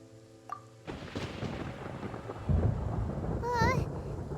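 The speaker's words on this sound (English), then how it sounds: "Paimon hears thunder!" Thunder in the video game Genshin Impact: a sudden deep rumble that builds and swells louder toward the end, with a brief voice-like tone over it.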